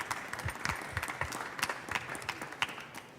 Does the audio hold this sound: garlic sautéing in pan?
no